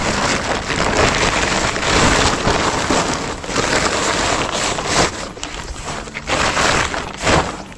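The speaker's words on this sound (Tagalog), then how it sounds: "Baka lumakas yung ulan." Steady rain pours over an outdoor work site where post holes are being dug, a dense, continuous hiss with some wind buffeting the microphone, loud and close throughout.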